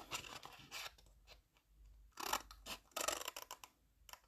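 Scissors snipping through paper while making gift pouches, several quick separate cuts with short pauses between them, close and fairly quiet.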